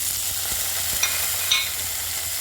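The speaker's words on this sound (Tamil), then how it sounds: "கருவேப்பிலை, பச்சை மிளகாய் இது போட்டு நல்லா வதக்கணும்." Curry leaves and green chilies sautéing in oil for a Kerala fish curry, a steady broadband sizzle with a couple of brief brighter crackles, close and fairly loud, no voices.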